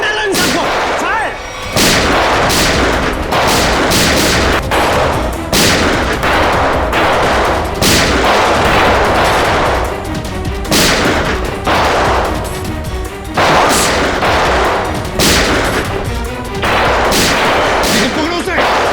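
Loud bursts of gunfire in a Hindi TV crime drama, with repeated sharp shots and volleys packed densely across the stretch and a brief lull near the start.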